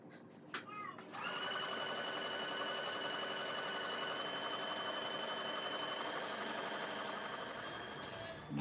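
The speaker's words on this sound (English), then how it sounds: "So I'm going to continue to stitch, and I'll meet you back when I've gotten to the end of my fabric." A sewing machine runs steadily, stitching ruffle ribbon trim onto fabric, with a brief start-up clatter followed by a continuous even motor hum and needle whir, fairly quiet and close.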